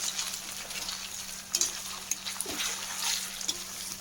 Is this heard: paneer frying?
yes